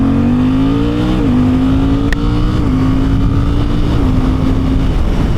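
A Suzuki GSX-8R motorcycle accelerates hard through its gears, the loud, steady engine note climbing in pitch with several brief dips at each upshift, close and continuous with wind noise throughout.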